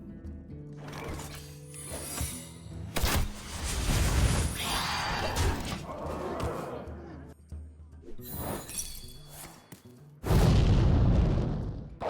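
Explosions in the card game Hearthstone: several booming blasts with crackling, shattering debris rolling across the span, ending in a loud final burst, mixed with game effects and a voice talking.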